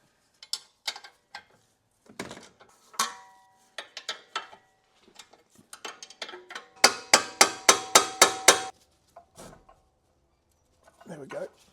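Wrenching on the front suspension of a V10 BMW M5, loosening the strut pinch bolt: a burst of quick, loud ratcheting clicks stands out among scattered metallic knocks and tool clatter, with occasional voice in the background.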